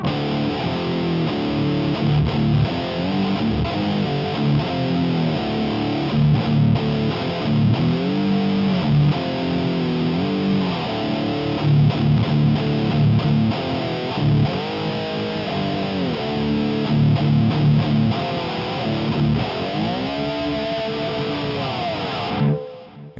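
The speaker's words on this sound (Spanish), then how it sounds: "su sexta cuerda en re, y usan el slide, se oye así." Distorted electric guitar played with a slide, sixth string tuned down to D, sounds alone in a continuous heavy riff of gliding, sliding notes and sustained chords lasting over twenty seconds.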